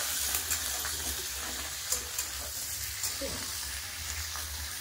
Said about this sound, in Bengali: আলু ভেজে তুলে নিয়েছি, আর কতগুলো ভেজে নেবো।